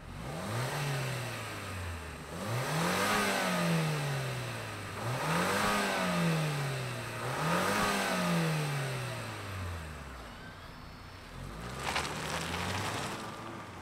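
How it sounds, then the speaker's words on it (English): A 2024 Lexus TX 350 three-row SUV, a hybrid with electric motor and all-wheel drive, revving in repeated rising and falling swells, about four strong pulls heard up close and loud with no talk. "let's fire this up and see it go"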